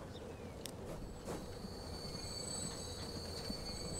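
Train with bogey coaches running in the video game Transport Fever 2, a steady rolling rumble with high wheel squeal and faint clicks, continuous and fairly distant with no talk.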